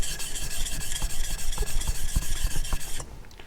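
A knife blade's face is worked vigorously back and forth on a sharpening stone to raise a burr, a steady rasping scrape with quick repeated strokes, close and fairly loud, stopping just before the end.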